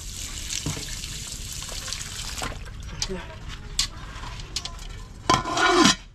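Water runs from a kitchen tap in a home where a meal is being cooked, a steady hiss broken by brief splashes and clinks, swelling into a louder gush near the end, with talk over it.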